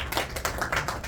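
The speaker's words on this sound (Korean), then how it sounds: "이분도 박수 좀 보내주시죠" Brief scattered clapping from an audience at a small-business mentoring session, a handful of uneven claps over about a second, fairly close.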